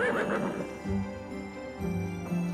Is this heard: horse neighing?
yes